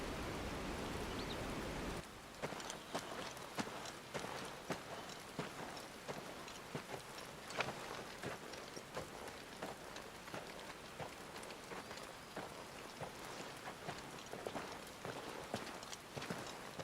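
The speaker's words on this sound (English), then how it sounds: "It's very rainy here." Heavy rain falls steadily in the video game Final Fantasy 16, a dense patter of drops hitting surfaces with a brief change in texture early on, and no talking over it.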